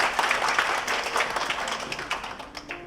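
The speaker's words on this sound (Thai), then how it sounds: "ปรบมือให้กับภาพความประทับใจด้านบนเวทีด้ว ยค่ะ" Guests at a Thai engagement ceremony in a hotel applaud in a short, fairly loud burst of clapping that gradually thins out.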